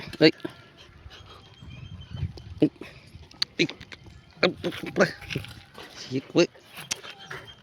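A puppy yelps in short, sharp barks mixed with high whimpers, coming in irregular bursts close to the microphone while a person talks to it affectionately between the cries.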